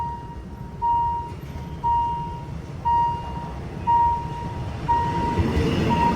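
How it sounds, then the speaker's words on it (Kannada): A small train approaching a city railway crossing in central Bangkok, with a crossing bell chiming at regular one-second intervals over distant traffic and a low rumble building toward the end. "ಬಂತು ಟ್ರೈನ್ ಬಂತು."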